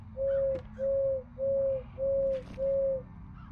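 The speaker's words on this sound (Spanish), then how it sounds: "Hace 5 veces el pájaro." A bird call in the video game Crow Country sounds five times, each a clear, steady, evenly spaced tone over a low, quiet background hum.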